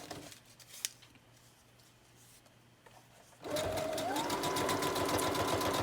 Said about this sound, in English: I'm just making sure that I'm sewing through every layer.